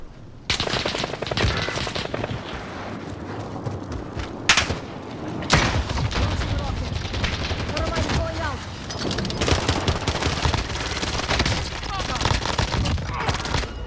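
Rapid bursts of automatic gunfire crackle through a battle royale shooter firefight, dense and continuous over about fourteen seconds with a few heavier booms, under a steady bed of game noise and faint voices.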